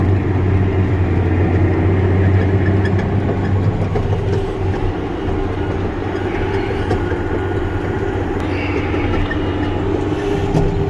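A Case Quadtrac 620 tractor working dusty potato land with a 6.5 m Sumo Trio cultivator: a loud, steady low engine drone under heavy load, with mechanical rumble and rattle throughout, close and unbroken.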